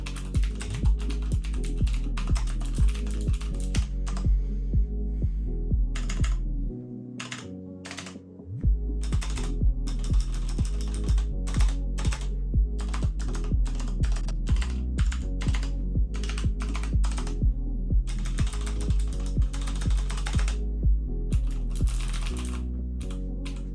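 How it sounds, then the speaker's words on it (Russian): Keys clatter on an XPG Summoner RGB gaming keyboard with Cherry MX switches, a fast, close, steady stream of crisp clicks with a brief pause partway through. "Предлагаю вам послушать тайпинг данной клавиатуры и оценить его в комментариях."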